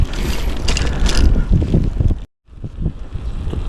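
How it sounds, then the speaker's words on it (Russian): Wind gusting in quiet countryside, rushing and buffeting across a field near a forest, loud and close with a brief silent cut midway, no voices. "Тут тишина такая, ветер аж слышно."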